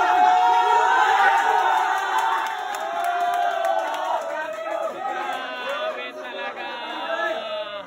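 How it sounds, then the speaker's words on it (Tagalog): A packed crowd of spectators roars and shouts continuously through a deciding-game billiards match between Calambre of CDO and Lloyd of Davao, with many voices overlapping loudly and close. "Sigawan talaga yung mga nanood dito."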